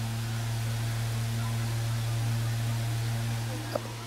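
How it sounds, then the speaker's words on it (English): An Impress high-velocity 9-inch fan runs on its high setting, giving a steady low electrical hum under a broad airy whoosh that holds evenly throughout, with one brief click near the end. "And let's see if we can capture the hum."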